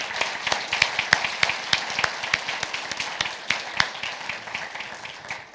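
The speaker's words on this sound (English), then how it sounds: "let's give them a round of applause" A school district department being applauded at a board of education meeting, with a steady run of dense clapping from an indoor audience that holds at an even level for several seconds.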